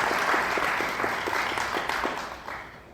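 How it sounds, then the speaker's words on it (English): Audience applause for diplomats at the opening of Diplomatic Week in Nassau, a full round of clapping from a seated crowd that holds steady, then begins to taper off. "I want you to give them a round of applause for the work they do."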